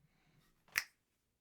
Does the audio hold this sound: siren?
no